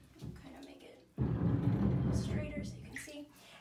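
A water sampler is lowered into a filled bathtub, giving a sudden wash of splashing and sloshing water that holds steady and slowly settles, close by, with a voice talking faintly underneath.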